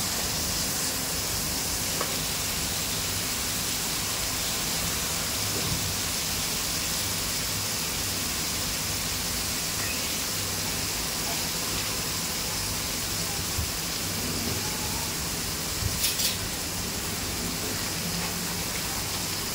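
Chopped tomatoes hitting a hot pan while cooking prawn pulao, a steady close sizzle and hiss running evenly throughout with a few faint clatters.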